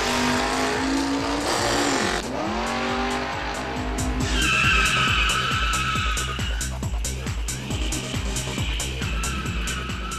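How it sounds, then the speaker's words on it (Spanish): Drag racing cars at a racetrack in Guadalajara roar and rev loudly, with screeching tire squeal and repeated engine surges over a continuous crowd-and-track din throughout. "venir aquí, al autódromo, a disfrutar de toda la adrenalina de unos arrancones"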